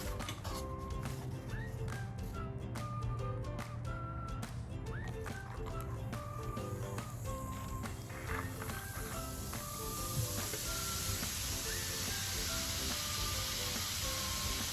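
Frozen, dyed vinegar cubes react with baking soda and glitter, and a soft fizzing hiss swells in the second half, rising over steady background music.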